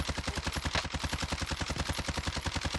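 An FAL rifle fires in Call of Duty Cold War Warzone, a fast, unbroken string of sharp, even shots that hammers on for a few seconds with no talking.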